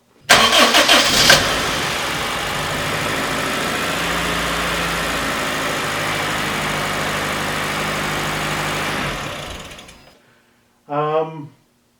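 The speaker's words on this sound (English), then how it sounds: "But this car runs and drives. It started right up." A Fiat 128 car with a worn airbox cranks and starts, then idles steadily for several seconds at close range before being shut off, after which a brief voice is heard.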